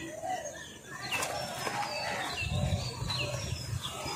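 Domestic pigeons kept at home make soft, low cooing rumbles close by over a quiet background, along with a few brief rustles of movement and no speech.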